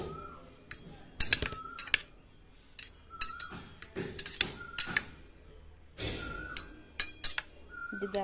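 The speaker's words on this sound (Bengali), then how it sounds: "এখন এটাকে ভালো করে মিশিয়ে নেব।" Green food colouring stirred into pieces of squash for homemade tutti frutti, giving a series of light clinks and scrapes of a utensil against a bowl, irregular and close, with no talk.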